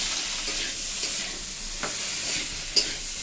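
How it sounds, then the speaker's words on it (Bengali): Cashews and raisins frying in ghee, a dense close sizzle with a few soft stirring scrapes and one brief sharp clink near the end. "এবার আমি সেই সব কাজু কিশমিশ ছেড়ে দিলাম"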